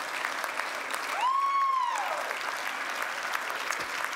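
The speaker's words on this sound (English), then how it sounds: "give them a round of applause to say thank you" Graduates at a Victoria University graduation ceremony clap for their family and friends, a dense crowd applause heard in a large hall, with a brief whistle-like tone rising through the middle.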